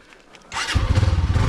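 A motorcycle engine starts up abruptly after a quiet moment and settles into a loud, steady, throbbing run close by, ridden on a bike tour heading up a steep straight climb.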